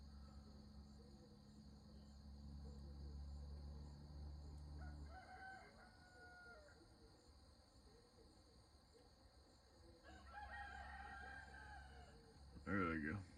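Two roosters crow in turn at a distance, one hoarse-sounding, over a low engine-like hum and constant insect chirring.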